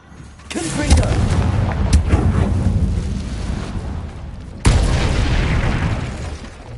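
A fire-blasting Confringo spell cast in Hogwarts Legacy on PS5: a loud booming explosion swells into a long rumbling roar, then a second sharp blast erupts and rumbles on.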